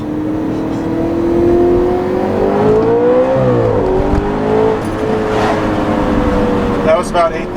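A 2013 Audi RS5 engine revs hard to about 8,000 RPM, its pitch climbing steadily in a loud rising scream before dropping off as the revs fall, with a short burst near the end.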